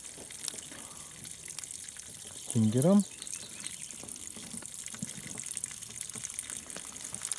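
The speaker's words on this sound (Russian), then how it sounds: "Все сливается вода." Water drains and rushes steadily out of a boat on a hunting trip in Yakutia, a continuous close wash of flow that runs throughout, with someone briefly speaking partway through.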